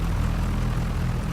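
Steady drone of an aircraft engine running in a flight simulator game, a continuous, even, propeller-like hum with no talking.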